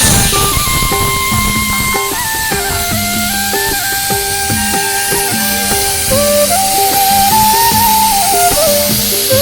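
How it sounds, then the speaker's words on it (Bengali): A pressure cooker boiling potatoes lets out a loud, sustained whistling steam blast with wavering pitch over a constant hiss, filling the whole stretch without any speech. "এই দিকে দেখো আমি প্রেশারে বসিয়ে দিয়েছি হচ্ছে আলু সেদ্ধ"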